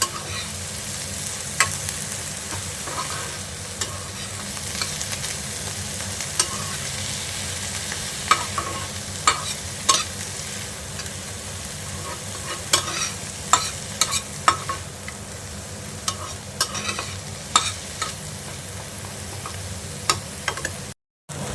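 Mustard flowers are stirred in a frying pan, producing a continuous close sizzle punctuated by frequent scraping and tapping strokes of the spatula against the pan, steady for about twenty seconds with no talking.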